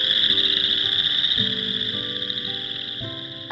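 Wetland frog chorus calling steadily from a distance, a dense continuous trill with layered voices and no talk over it.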